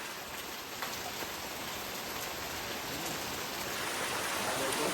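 Heavy, continuous rain pours down in a Konkan village, a dense, steady hiss that holds at the same loudness from start to finish with no voices.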